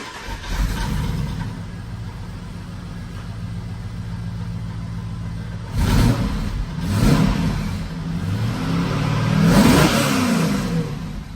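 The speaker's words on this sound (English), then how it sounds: "Here we go with the extractors and the stock catback exhaust." A car engine, a Holden Commodore LS1 V8 with extractors and stock catback exhaust, idles steadily, then revs sharply three times with a deep exhaust note, each rev rising and falling back to idle.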